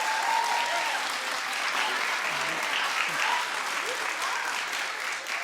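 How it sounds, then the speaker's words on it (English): A studio audience at a talk show claps steadily, with loud, even applause filling the room throughout and some voices underneath. "clap if you think he looks handsome"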